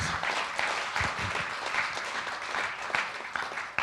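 Steady applause from a temple audience at a Maha Shivratri gathering for a pandit, a dense patter of claps at moderate distance without talk.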